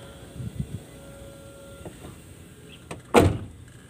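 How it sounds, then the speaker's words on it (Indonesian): The cab door of an Isuzu GVR 285 Giga truck shuts with a single solid thud near the end, after a few faint clicks and rustles inside the cab. "Tutup pintu."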